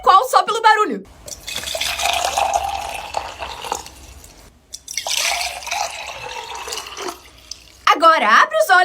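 Water poured into two glasses, one cold and one hot: two separate pours of several seconds each, a bright hissing splash with a rising fill tone, set between brief stretches of a voice talking.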